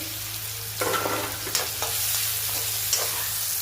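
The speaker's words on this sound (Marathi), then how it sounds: "तेल व्यवस्थित गरम झालं आहे त्या टायमाला मी ह्याच्यात कांदा ॲड करून घेतली तर या पद्धतीने कांदा व्यवस्थित परतू द्यायचा" Onion sautéing in hot oil for Kolhapuri chicken, a close steady sizzle with several scraping stirs of a spatula over a low hum.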